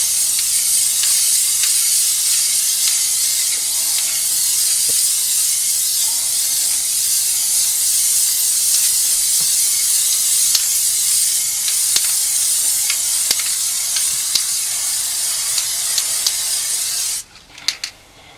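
Spray paint hisses steadily from a can as a coat goes onto a primed, formerly rusty wheel, one long continuous spray lasting most of the time before stopping abruptly near the end with a few small clicks.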